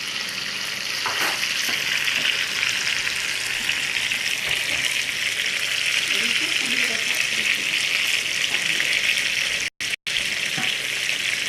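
Chicken browning in a frying pan gives a steady, broad, close sizzle that holds throughout, with a couple of brief dropouts near the end and faint talk underneath.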